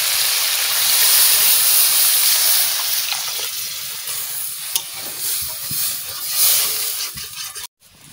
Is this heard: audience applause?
no